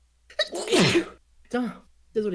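One loud, close sneeze with a quick sharp onset, followed by short spoken reactions in French, during a Gartic Phone game session.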